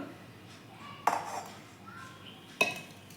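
A spoon mixes ragi flour with jaggery syrup in a bowl, giving two sharp, separated clinks against the bowl over a quiet, soft background.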